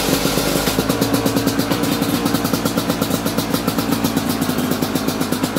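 A cold motorcycle-type engine idles close by with a steady, rapid pulsing rhythm that stays loud and even throughout. No voices are heard over it.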